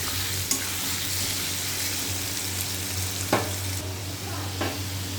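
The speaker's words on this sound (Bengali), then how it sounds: "এবার আলুটাকে ভাজা করে নেব।" Potatoes seasoned with turmeric and salt frying in a pan, a continuous steady sizzle with a few sharp stirring clicks, close and moderately loud.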